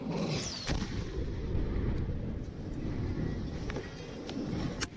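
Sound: military artillery and gunfire

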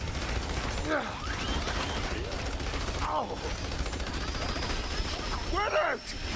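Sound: freezy bullets gunfire in video game Battleborn

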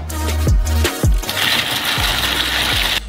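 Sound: mixer grinding sugar, cocoa and nuts into Nutella paste

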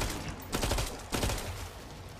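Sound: gunfire in the video game Killing Floor 2

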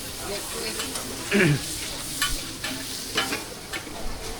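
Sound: shellfish frying and being stirred at a market stall

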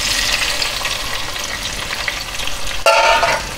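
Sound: tomatoes frying in about half a cup of hot oil

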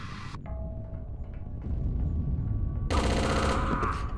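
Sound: gunfire in video game Chaser

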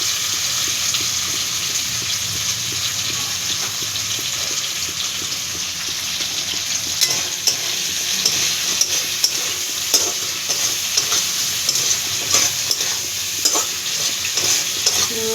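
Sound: shrimp and potatoes frying in a pan

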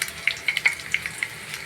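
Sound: cumin and mustard seeds sizzling in hot oil

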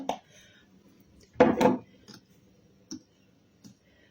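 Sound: stirring cake batter in a bowl

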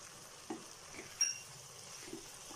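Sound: stirring spices into potatoes in a pan

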